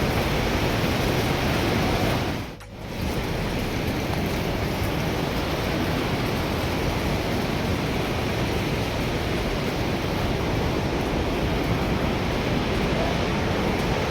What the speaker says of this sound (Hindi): और आप देख सकते हैं नदी का शोर कितना तेज़ है।